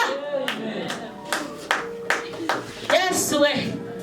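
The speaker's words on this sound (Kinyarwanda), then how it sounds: "Mukomera amashyi cyane Kristo watwemereye kuduha iryo zina rya bene Rekabu" A church congregation claps in scattered bursts of hand claps while a preacher's voice carries on loudly over them.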